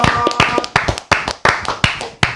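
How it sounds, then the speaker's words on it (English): A small group claps in loose, irregular bursts at a studio gathering, sharp hand strikes close and loud with brief gaps between them. "Applause."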